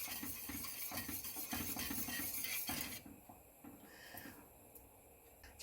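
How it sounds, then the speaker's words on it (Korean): A spoon stirs a boiling flour-and-water paste in a pot, made for young radish water kimchi, with steady scraping and bubbling that drops to a quieter simmer partway through. "이때 저어주세요."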